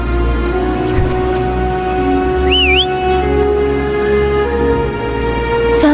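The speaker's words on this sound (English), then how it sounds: "Try whistling." A game character in Wuthering Waves gives a short, rising-and-falling whistle to call Foam, clear and brief over a steady layered musical drone.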